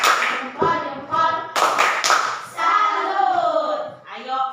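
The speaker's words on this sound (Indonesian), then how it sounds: "Tepuk salut" Schoolchildren in a classroom perform a salute clap, crisp bursts of hand claps broken into short groups while young voices chant along in rhythm.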